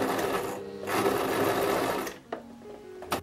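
A sewing machine stitching a backpack strap made from a jacket, a close rapid mechanical chatter in two short runs with a pause and a couple of soft clicks between.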